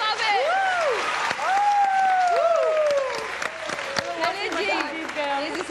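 A studio audience on an Iftar television show breaks into loud applause after a correct answer, with whoops and voices rising through the clapping before it thins out.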